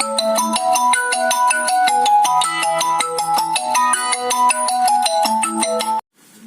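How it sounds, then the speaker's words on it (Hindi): A bright electronic phone ringtone plays a quick repeating melody loudly and close, then cuts off abruptly near the end. "बीच में फोन आ गया था"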